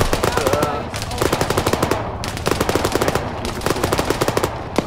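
Rapid bursts of automatic gunfire from the video game ArmA 3, loud and sustained with brief pauses between volleys.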